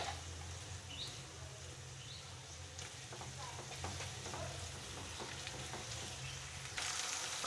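Curry leaves sizzling in hot oil with fried onion and ginger-garlic paste, a steady frying hiss under occasional soft stirring scrapes, close and moderate, with no talking.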